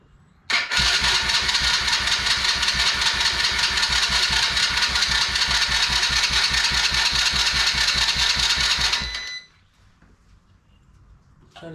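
Small Chinese kid's quad engine cranking without catching, a loud, steady rhythmic churning that runs unbroken for about nine seconds before cutting out to near silence.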